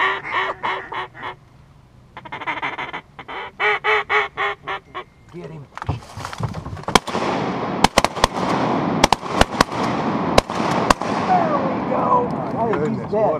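Shotguns fire during a duck hunt in Otter Slough, several sharp, loud reports scattered across the second half, following duck calls and quacking, with voices talking in the background.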